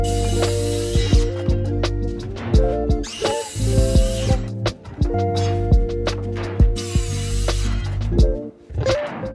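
A power saw cuts wooden boards to length outdoors, away from the workshop, with repeated loud whining runs broken by short gaps and knocks of handled wood, close and without talk.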